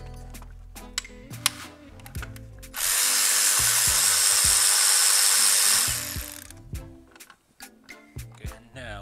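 A power tool spins out valve cover bolts on a 2009 BMW 328i xDrive. It gives one sustained whirring run of about three seconds, framed by scattered metallic clicks and taps from the socket and bolts.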